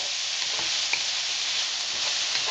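Steady, close sizzling of eggplant, onion and maitake mushroom stir-frying in a hot pan, with faint stirring clicks and no voices.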